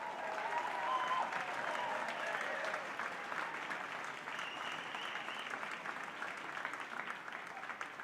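A studio audience at a Calgary mayoral debate applauds steadily, a dense, even wash of clapping that holds for several seconds, with some crowd voices and a few whoops mixed in early on.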